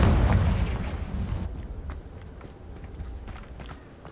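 A Confringo blasting spell in the Hogwarts Legacy video game goes off with a loud, booming burst that fades into a quieter rumble, followed by scattered small crackles and thuds.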